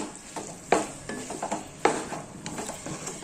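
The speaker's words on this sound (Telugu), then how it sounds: "ఇదిగోండి అంతా బెండకాయలంతా ఈ మసాలాకు పట్టే విధంగా బాగా కలుపుకోవాలి" Okra curry stirred through masala in a pan, with a spoon scraping and clacking against the metal in irregular strokes, two sharp knocks standing out over a soft, steady sizzle.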